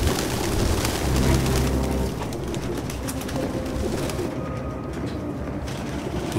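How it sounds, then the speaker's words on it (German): Pigeons taking off and cooing in the video game Detroit: Become Human, a fluttering wing burst early on followed by soft, repeated coos at moderate volume under steady game ambience. "Die Kamera zirkuliert und die Tauben fliegen."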